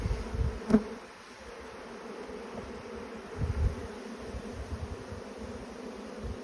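Honey bees hum in an opened hive from a strong colony, a soft, steady drone with a few closer buzzing passes and light frame handling noises, fairly faint and without speech.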